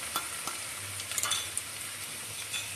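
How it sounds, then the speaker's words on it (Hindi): Chicken fries with onion and tomato masala in a pan, a quiet steady sizzle punctuated by a few sharp spatula scrapes and ticks close by, no voices. "और हम इन्हें अच्छे से भून लेंगे।"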